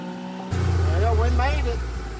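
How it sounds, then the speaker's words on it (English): A farm vehicle in four-wheel drive grinds up a hill, its engine rising to a loud, steady drone after a short quiet start, with a voice talking over it. "I know this thing won't get up in two-wheel drive, so we'll switch it to four-wheel and see if we can't get up this."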